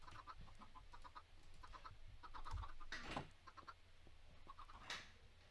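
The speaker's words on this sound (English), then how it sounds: "some chickens" Chickens cluck in a video game, a series of short, quiet clucks and bursts repeating over ambient game noise, with no talking.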